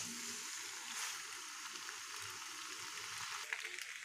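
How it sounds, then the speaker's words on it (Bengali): Boiled pasta frying with spices in a pan, a steady, faint sizzle with soft stirring scrapes throughout. "এভাবেই আমি মশলার সাথে পাস্তা, সেদ্ধ করা পাস্তা 5 মিনিটের জন্য কষিয়ে নেব।"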